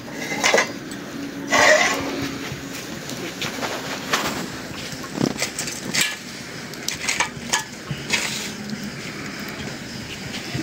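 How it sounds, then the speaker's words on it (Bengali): A metal wok is lifted off the stove and set down after frying pitha, giving scattered clanks and clatters of pots and utensils at close range, with one louder knock midway and no speech. "কড়াইটা একটু নামায় রাখি।"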